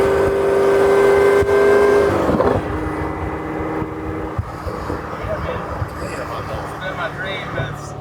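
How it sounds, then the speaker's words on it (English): A 900HP Corvette ZR1 engine revs hard, then blips and drops through downshifts, with the exhaust crackling as it slows. People talk over it. "But downshifts are great. Yes. They sound fantastic."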